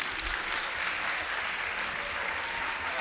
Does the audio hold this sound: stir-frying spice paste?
no